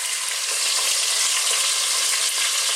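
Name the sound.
chicken thighs frying in a pan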